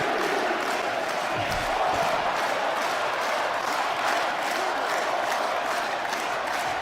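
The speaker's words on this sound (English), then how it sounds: "The crowd is erupting." A wrestling crowd at a BCW Beyond Rules 3 tag team opener roars loudly and steadily after a huge lariat to the outside, a dense wash of cheering that holds at full volume throughout.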